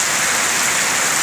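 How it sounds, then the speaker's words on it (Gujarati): Heavy rain pours down in the Gir region on Janmashtami (Gokul Ashtami), a loud, dense, unbroken roar of drops hitting surfaces close by. "વરસાદની ધબધબાટી બોલે, બહુ પડે વરસાદ"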